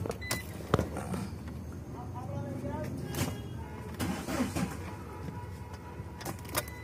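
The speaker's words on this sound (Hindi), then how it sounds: "अब जाके लगा के अब स्टार्ट करते हैं इस गाड़ी को" A Mahindra Xylo with a faulty mass air flow sensor and a blinking check light cranks and starts close by, with clicks, rattles and a rising engine rumble while someone talks over it.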